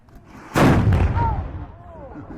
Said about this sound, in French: Attention, Arthur, coup de feu.